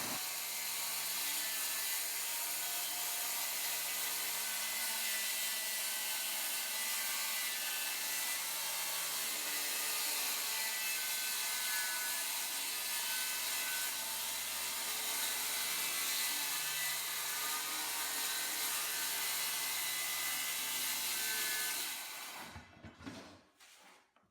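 Skilsaw circular saw cutting through a plywood subfloor during water damage repair, a loud sustained whining rip for about twenty-two seconds that cuts off abruptly and winds down at the end.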